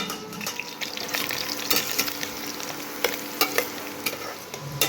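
Whole cumin, dried red chillies and green chillies sizzling and crackling in hot oil as a Bengali tempering is stirred in the pan, a steady close fry with sharp pops and scraping stirs throughout.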